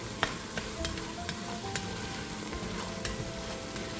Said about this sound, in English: So I'm going to get this all stirred up.